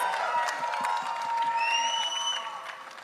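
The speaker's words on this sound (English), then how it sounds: "you tell him with a big round of applause and some cheers in the house" Audience at a press meet for the series Rana Naidu, with crowd noise and cheering plus a sustained whoop or whistle-like tone, dense and fairly steady for about three seconds before easing off at the end.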